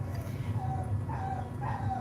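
Pet dog giving short yips and whimpering cries, three rising-and-falling whines over a muffled background with a voice nearby.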